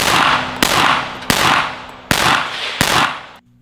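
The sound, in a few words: PS90 rifle gunshots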